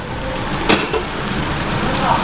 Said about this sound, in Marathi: व्यवस्थित फ्राय झालेला आहे कांदा आणि पेस्ट